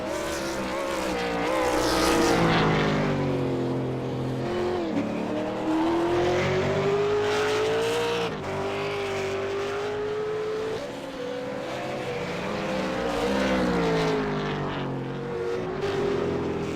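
A V8 Supercar racing car engine on a flying lap in the 2013 Australia/New Zealand series: a loud, continuous high-revving roar whose pitch rises and falls through gear changes and corners, heard close and alone.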